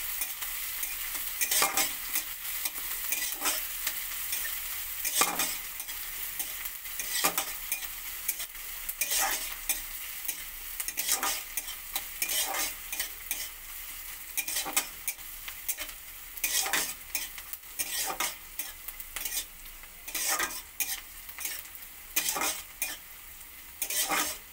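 Chopped onions fried in a pan, a spatula scraping and knocking in steady repeated strokes over a soft continuous sizzle, close and fairly quiet, no voices.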